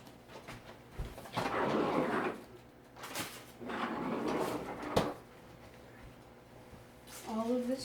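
A deli fridge drawer in a cooking game slides open and shut twice, each time with a rattling rolling scrape ending in a clunk, while a voice talks briefly near the end.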